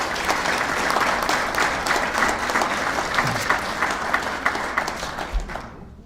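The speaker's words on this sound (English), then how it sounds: "so if we could please have a round of applause for them." A banquet crowd at a Georgia PGA golf awards dinner claps steadily for about six seconds, a dense, loud round of applause that thins and fades away at the end.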